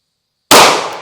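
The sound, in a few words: gunshot from FN 509 Tactical pistol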